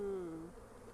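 Honey bees buzz close by at an open hive on a pallet, a steady droning hum that is loudest at the start and eases slightly, with no talking.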